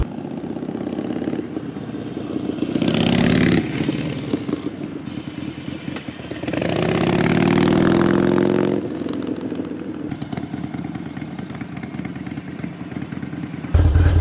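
A Harley-Davidson Sportster fitted with a Gallop Flying Comet exhaust roars past twice, each pass swelling into a loud throaty rumble and then falling back to a quieter engine drone in between.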